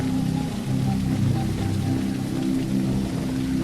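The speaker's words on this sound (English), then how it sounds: "I like the rain, everything." Steady rain falls in the video game Paradise, a continuous close hiss over a low rumbling bed that holds even from start to finish with no voices.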